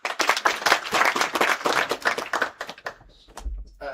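Audience at a Chuka University IAEA African summer school claps in a dense, lively burst that thins out and tails off near the end.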